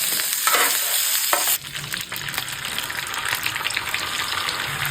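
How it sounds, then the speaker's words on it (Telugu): Four sliced onions fry in hot oil for a fish curry gravy, giving a loud, steady, close sizzle with occasional stirring scrapes and a brief drop in intensity partway through. "ఆనియన్స్ కొంచెం రెడ్ అయినాక ఉల్లిపాయలు ఇలా ఫ్రై అవ్వాలి"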